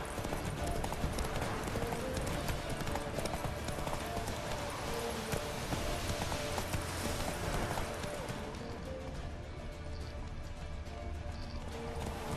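Horse hooves clip-clop in a quick, steady rhythm as a rider travels on horseback in The Witcher 3, the beat continuous and fairly prominent over ambient game sound.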